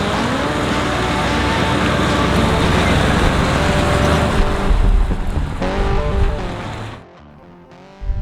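A vintage motorhome truck's carbureted engine revs hard, a loud, dense roar held steady for about seven seconds before dropping off sharply and picking up again at the end.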